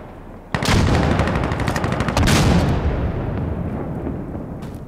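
Automatic gunfire in the video game Insurgency: Sandstorm, push mode: a dense, loud burst of rapid shots that rolls on for several seconds with a second surge midway, then fades into echoing rumble.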